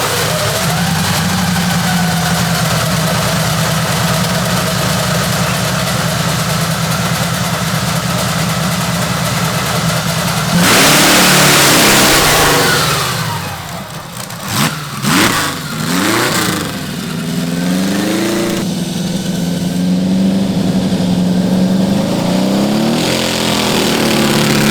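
A custom V8 engine fitted to a 900-pound go kart rumbles loudly at a steady idle, surges into a sharp rev with rising and falling pitch sweeps, then drops back to an uneven idle.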